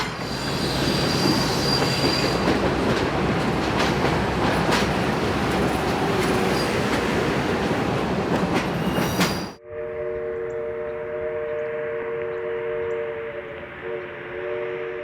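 Southern Railway 4501 steam excursion train rolls past with loud, continuous wheel squeal and rail rumble, then the sound drops sharply to a quieter, steady rolling hum with tonal squeals from the passing cars.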